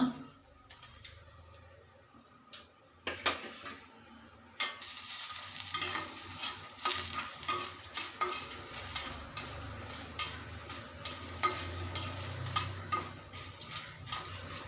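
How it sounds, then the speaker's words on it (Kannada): Guntur dry chillies roasting in a hot pan, stirred with a metal spatula that scrapes and clinks steadily against the pan over a soft sizzle, with busier stirring after a brief pause near the start. "ನಾನು ಮೆಣಸಿನ್ಕಾಯಿನ ಹುರ್ಕೋತಿದ್ದೀನಿ."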